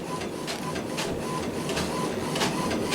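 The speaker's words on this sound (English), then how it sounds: "The printer is going off" A printer runs close by, its steady mechanical whir carrying regular rhythmic clacks from the print head moving back and forth.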